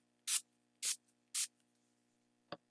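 Kokie setting spray misted onto a face in three short, even hissing bursts close to the mic, followed by a faint brief click.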